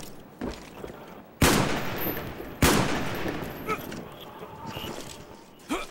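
Video game gunfire: two loud, sharp shots, each followed by a decaying rumble, with fainter pops scattered between and a last shot near the end.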